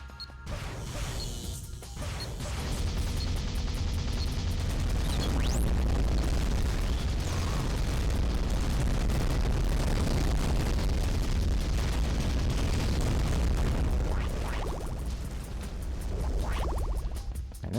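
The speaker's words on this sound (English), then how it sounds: "An explosion sounds like blowing out the mic." Loud explosions and crashing blasts in a space video game, a sustained roaring barrage of booms that saturates and maxes out the volume for most of the stretch after a brief quieter opening.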